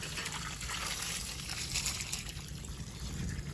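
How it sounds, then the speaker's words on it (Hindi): Water trickles and flows steadily through a garden irrigation channel, a soft, continuous close-up gurgle with no voices. "सो पानी यहाँ से इस तरफ जा रहा है, चेक करें, ये चेक करें।"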